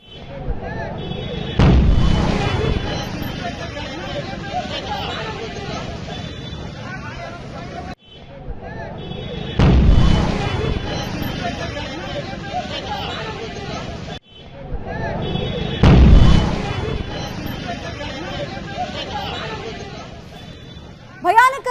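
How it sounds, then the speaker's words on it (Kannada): Blasts from a gas cylinder at a burning bakery in Shivamogga ring out as sharp, booming bursts amid a crowd's anxious babble, repeating several times over the scene with loud low rumbles. "ಅಲ್ಲಿ ರೆಕಾರ್ಡ್ ಮಾಡೋ ಸಂದರ್ಭದಲ್ಲಿ ಗ್ಯಾಸ್ ಸಿಲಿಂಡರ್ ಬ್ಲಾಸ್ಟ್ ಆಗಿರೋದನ್ನ ಗಮನಿಸ್ತಾ ಇದ್ದೀರಾ."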